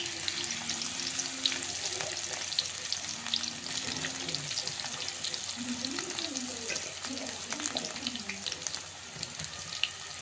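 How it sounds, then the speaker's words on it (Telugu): Soy chunks (meal maker) crackle and sizzle steadily in hot oil, a continuous bright frying hiss throughout with faint stirring, as the pieces fry toward golden brown for pakoda. "తర్వాత ఆయిల్ పెట్టుకొని ఆయిల్ హీట్ అయ్యాక మిల్ మేకర్ వేసుకోవాలి"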